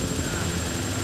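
Helicopter in the video game TimeSplitters, a continuous loud rotor and engine drone with a steady whine on top, unbroken for the whole moment.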